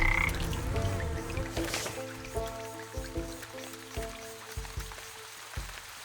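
Frogs croak in the fantasy crafting video game Wytchwood, a series of close, repeated low croaks arriving in uneven bursts over a soft, damp ambient background, with no voices.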